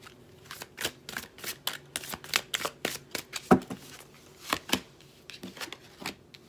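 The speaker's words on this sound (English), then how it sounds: "I'm going to pull a single card from each deck as we close out this reading for my clients." Tarot cards are pulled and slid from several decks, a quiet series of crisp flicks and snaps, irregular but frequent, close to the ear and without speech.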